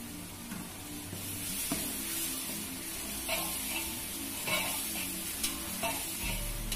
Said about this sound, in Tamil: இந்த எண்ணெயிலே பார்த்தீங்கன்னா காய்கறி ஓரளவு வெந்துடணும்.